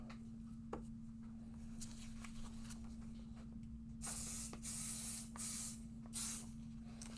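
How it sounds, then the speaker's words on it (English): Several short bursts of a spray bottle misting, quick hissing puffs in a loose sequence, after a few light clicks from the trigger in a quiet room. "Put a little pixie spray on there."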